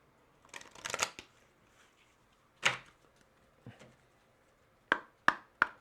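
Tarot cards are shuffled and handled close up and quietly: a riffling burst, a single sharp slap, a soft shuffle, then three crisp taps of the deck in a quick row, with near silence between.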